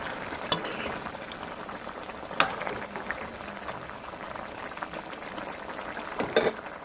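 A tomato and bottle gourd curry simmers in a pan, giving a steady, soft bubbling and faint sizzle with a few sharper clinks and stirring taps, quiet and close, no voices.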